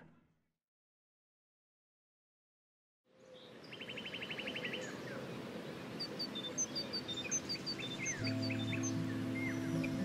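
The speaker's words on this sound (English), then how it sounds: "The birds are flocking around Samuel" Birds in the Life is Strange video game chirp and twitter in scattered bursts over a soft steady rain-like ambience, starting after a few seconds of near silence, with a low droning tone joining near the end.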